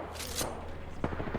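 Gunfire in the battle royale video game Apex Legends, a burst of fairly quiet rapid shots followed by a few sharper single reports near the end.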